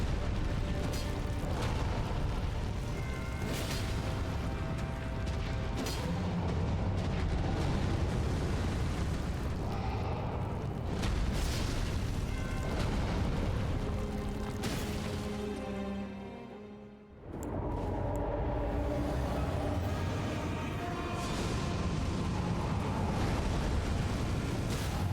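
Fire Giant boss in Elden Ring unleashing fire attacks: continuous roaring blasts and rumbling eruptions, loud and dense throughout, with a brief dip before the barrage resumes.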